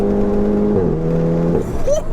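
Fully forged 620 bhp front-wheel-drive Golf GTI Clubsport accelerating hard under boost, a loud close engine note climbing in pitch, then dropping at a gear change before rising again.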